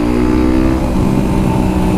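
A small beginner motorcycle accelerating steadily nearby, its loud, continuous engine drone filling the whole stretch without a break.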